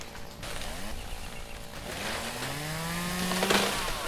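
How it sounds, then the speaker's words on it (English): A chainsaw cuts into a tree stump in the Lumberjack's Dynasty video game, its engine revving up and down in continuous, close, fairly loud sweeps. "you can't really get rid of a stump with a chainsaw"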